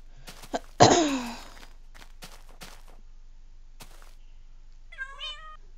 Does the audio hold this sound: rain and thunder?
no